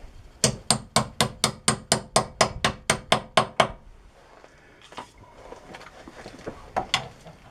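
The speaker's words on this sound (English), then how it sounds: "Tap the socket on with a hammer." A hammer taps a socket on a rusty brake job of a 2007 Chevy Avalanche about a dozen times in a quick, even rhythm, close and sharp, then a pause and a couple of lighter knocks.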